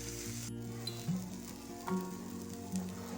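Ragi uthapam topped with onion sizzles steadily on a hot pan over medium flame, a continuous soft frying hiss with faint pops and no talking.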